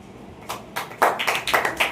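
Students clapping in a classroom, a burst of scattered hand claps and taps that grows louder and denser after the first second, with no voices over it.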